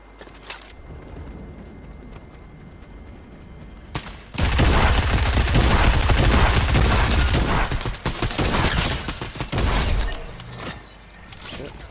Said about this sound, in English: Someone's firing at me from southwest.